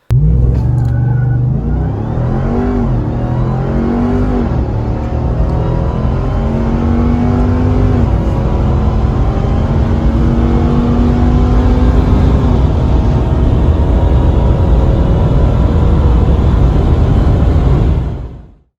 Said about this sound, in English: The truck sounds great with free flow manifolds, a crossover, and 5-inch exhaust tips